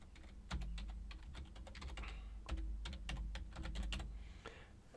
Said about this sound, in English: double click into the box and just type